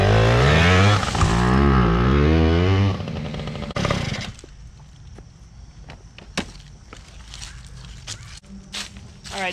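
A freshly repaired small-engine motorbike revs hard and loud up close for a few seconds, then drops to a quieter running idle with scattered clicks and knocks nearby.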